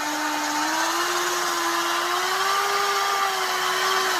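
A rotary buffer spins a wool buffing pad caked with old compound against a pad cleaning tool, giving a loud, steady motor whine with a slowly rising pitch that continues throughout.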